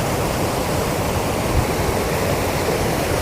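Powerful rushing water roars steadily and close after heavy rain, a dense unbroken torrent with no voices.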